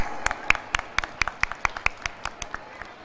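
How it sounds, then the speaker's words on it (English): Applause for student performers at a school annual day celebration, Atomic Energy Central School No-2 in Tarapur: a steady run of sharp, fairly sparse claps at an even quick rhythm, close and moderately loud, with no talking. "I request all of you to appreciate them with a huge round of applause."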